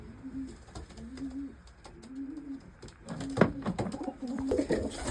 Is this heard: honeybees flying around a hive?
no